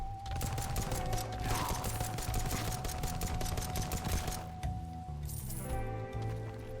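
Pistol fire in the kart racing game Nightmare Kart, a fast string of sharp shots over a droning engine and game sounds, with a short pause near the end.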